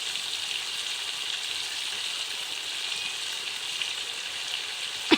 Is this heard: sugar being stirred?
yes